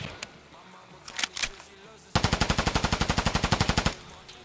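Automatic rifle fire in the shooter game Escape from Tarkov, a long rapid burst of about twenty loud, evenly spaced shots, with a few scattered single shots and brief talk just before.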